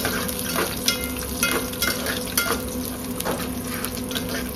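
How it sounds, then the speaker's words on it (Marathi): Garlic sizzles in hot oil in a pan while being stirred, with crackling frying noise and occasional spatula scrapes and clinks, close and steady. "लसूण टाकली आता आणि त्याला थोडंसं मिक्स करायचं आपल्याला."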